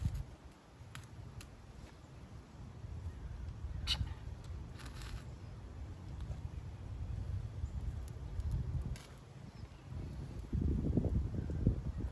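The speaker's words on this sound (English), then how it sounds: "Got a lot of wind today, looks like." Wind blows steadily outdoors in a low, rumbling wash, with faint rustles and ticks from leaves and small objects, rising to stronger gusts near the end.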